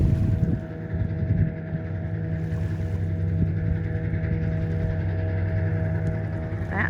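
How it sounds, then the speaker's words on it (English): Boat wake washes against the Mississippi River shore near a campsite, heard as a steady low wash and rumble with wind noise on the microphone and no voices. "now we're getting the wake of it lapping the shores"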